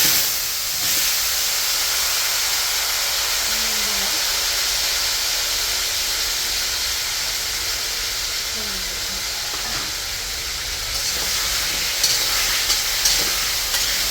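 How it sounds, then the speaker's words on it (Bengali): Washed, cut potatoes frying in hot oil for a rainy-day chicken and khichuri meal, giving a steady, even sizzling hiss that runs unbroken for about fourteen seconds under a faint low background rumble. "তেলটা গরম হয়ে গেছে, ধুয়ে কেটে রাখা আলুটা ভাজার জন্য দিয়ে দিই।"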